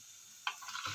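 Chana dal and spices drop into hot oil, giving a brief soft sizzle that swells after a faint crackle, quiet and close with no talking.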